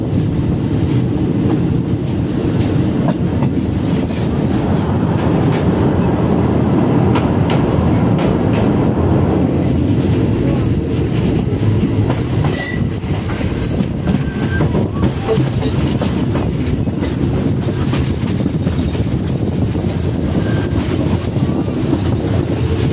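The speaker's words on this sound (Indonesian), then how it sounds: "kereta api di wilayah selatan Thailand ini udah beroperasi dengan normal." An old local train in southern Thailand running steadily, with a loud continuous rumble of wheels and carriages and rhythmic clickety-clack from the rails, close and sustained throughout.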